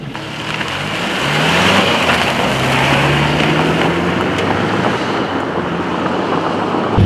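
A taxi car drives along a gravel road near Tartu, giving a loud, steady roar of tyres crunching on gravel and road noise under an engine hum that shifts in pitch.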